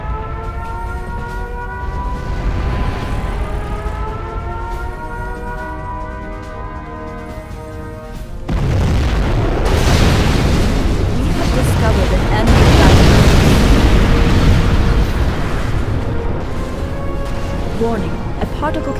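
Nuclear missile launch and detonation in Command & Conquer Generals Zero Hour: a sustained tonal roar gives way midway to a loud, dense rumbling blast that swells and lingers, with no speech over it.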